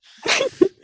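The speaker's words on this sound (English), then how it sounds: "She sneezes right on him." A person lets out a single short sneeze, a quick sharp burst ending in a brief voiced tail, with nothing else around it.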